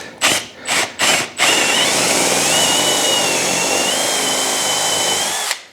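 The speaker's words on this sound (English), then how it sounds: "And it's just a case of drill straight down." A power drill bores straight down for an anvil stand bolt, starting with three short bursts, then one loud, steady whir that holds for about four seconds before stopping abruptly.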